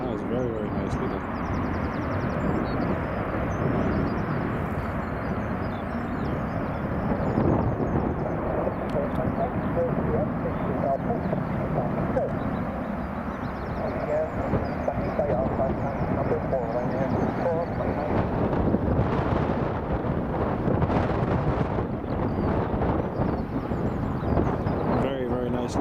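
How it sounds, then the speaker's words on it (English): A Ryanair airliner lands at Newcastle International Airport during Storm Kathleen, heard as a steady roar of engines blended with heavy gusting wind noise buffeting the microphone throughout. "Very, very nice landing there by the Ryanair crew. You can see the wind just catching it there just before the touchdown."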